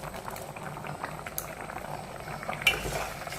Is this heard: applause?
no